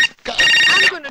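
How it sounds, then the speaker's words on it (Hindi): A telephone bell rings in one loud, close, shrill burst lasting about half a second, framed by brief voices just before and after. "Vijay, phone lena, please."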